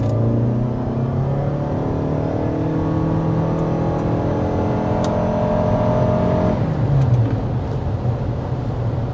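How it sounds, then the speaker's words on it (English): A 2023 Toyota RAV4 Hybrid accelerating hard, its engine note climbing steadily in a loud, continuous drone that shifts character near the end as the pace builds. "2023 Toyota RAV4 Hybrid"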